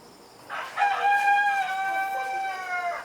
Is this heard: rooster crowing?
yes